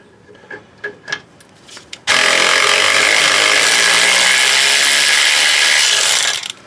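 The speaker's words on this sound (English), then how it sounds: "What I'm going to do is switch over to this guy on my power ratchet and see if it'll take it out." Power ratchet working a seized hub bolt: a few short taps and clicks, then a loud, continuous high-pitched whir for about four seconds before it cuts off.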